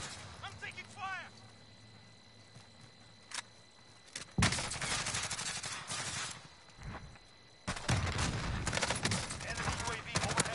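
Call of Duty Modern Warfare gunfire: after a quiet stretch with a few beeps and chirps, loud dense volleys of rapid shots erupt in two long sustained bursts, close and overwhelming.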